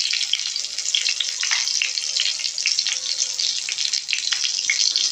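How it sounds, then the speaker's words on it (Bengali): Cumin and asafoetida sizzle in hot mustard oil with a loud, close, continuous crackling hiss and small pops throughout. "আমি এক চামচ সর্ষের তেল দিয়ে দিলাম, আর জিরে দিয়ে দিচ্ছি"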